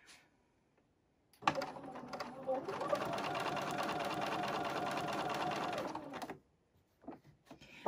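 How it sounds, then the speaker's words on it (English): A sewing machine stitches quilt pieces along the diagonal of a square in one steady, continuous run of several seconds, close and fairly loud, with quiet pauses before and after. "I am just sewing right along the diagonal of the square."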